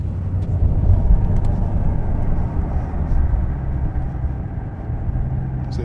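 BMW S85 V10 engine with a DCT gearbox heard from inside the car with the window rolled down, a steady low rumbling drone close by and fairly loud, with no revving bursts.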